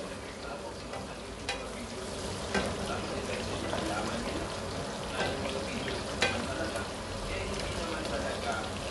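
Garlic fries in a pan with pork, a steady soft sizzle with occasional stirring clinks, under a quiet speaking voice.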